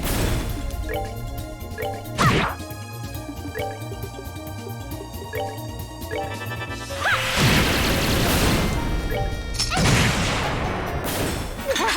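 A Flame Smash attack in Trails in the Sky SC plays as a crashing fiery burst over game music, with separate whooshing impacts and smashes spread across the stretch, the loudest mass of sound in the second half.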